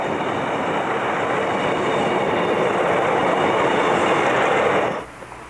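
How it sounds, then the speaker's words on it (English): A diesel multiple unit train rolls past on the line near the Holly Street and East Marsh Sidings connections at Grimsby, a steady loud rumble with wheel noise that holds for about five seconds before dropping away abruptly. "Passing Holly Street and East Marsh Sidings connections is a DMU train heading"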